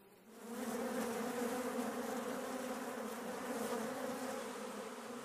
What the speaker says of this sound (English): They swarm out of the hive in a mad, swirling rush.